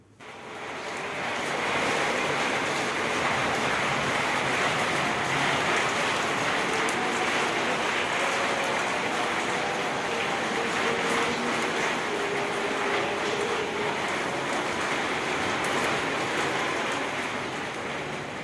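A heavy stormy downpour roars continuously and loudly for the whole stretch, a dense, unbroken wash of rain noise with no speech.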